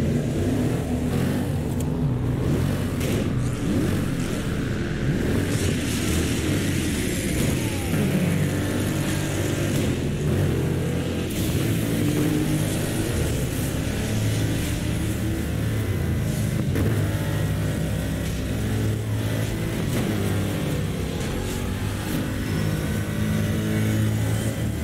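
A car engine drones steadily in the racing game Burnout Paradise Remastered, with continuous loud low rumble and revving and no pauses throughout.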